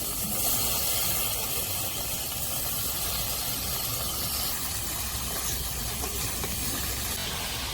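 Fish fries in a pan of oil, giving a steady, close, dense sizzling hiss that continues without a break.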